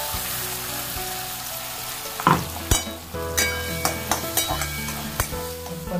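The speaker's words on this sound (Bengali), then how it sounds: "তেলটা গরম হয়ে গেছে। এবার এখানে আমি পেঁয়াজটা দিয়ে দেবো" Onion fries in hot mustard oil in a home kitchen pan, a continuous close sizzle broken by sharp scraping clacks of the spatula as it is stirred, with no talk.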